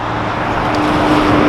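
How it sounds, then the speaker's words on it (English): A car cruises along a Thai highway near Rayong with a steady, loud cabin rumble and road noise heard from inside, unbroken over the short stretch. "I'm driving along."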